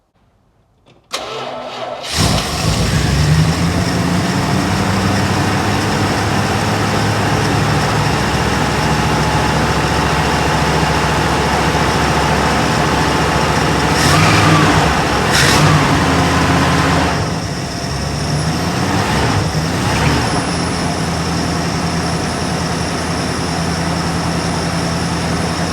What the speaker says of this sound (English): I just shot some laughing gas down into the carburetor, and I'm gonna see if she fires up.